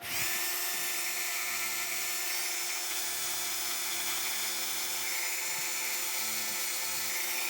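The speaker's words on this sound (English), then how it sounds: "we're going to sand more of the shaft here to get it all working" A lock pin shaft being sanded with a small power tool, a steady high-pitched whine with a continuous grinding hiss, close and fairly loud without pause.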